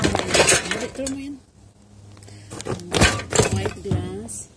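White glass bottles clinking and clattering as they are sorted at a recycling area, several sharp bright clinks in bursts with people talking nearby throughout.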